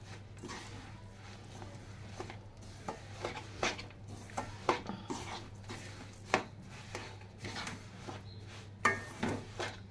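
Sesame seeds and peanuts being stirred in a pan for til ladoo, with a steady run of scraping, clinking and tapping strokes against the pan over a low constant hum, close and moderately loud.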